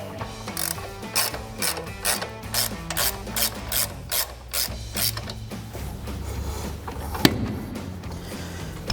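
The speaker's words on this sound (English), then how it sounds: "I'll take my 1/2-inch drive now with my 18 millimeter on it and just ratchet this out the rest of the way." A 1/2-inch drive ratchet with an 18 mm socket backs a bolt out on a Ford F-250 during a front leveling kit install, giving a steady run of rapid clicking pawl strokes, close and alone, before it stops.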